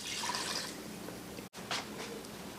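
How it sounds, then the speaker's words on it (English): Water is poured into sugar to make syrup, a soft splashing trickle that breaks off briefly, then resumes with light drips. "I've taken sugar, and I'm going to mix it with about 1 cup of water."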